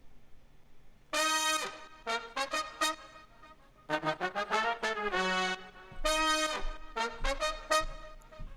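Low brass section of three layered trombone tracks pitched down, playing short, punchy phrases in bursts, stacked notes sounding together, separated by brief gaps.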